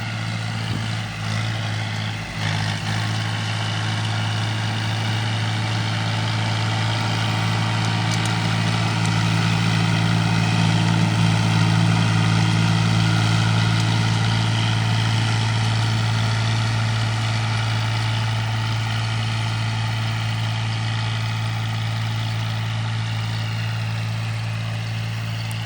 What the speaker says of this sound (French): maintenant je me tais et on filme du tracteur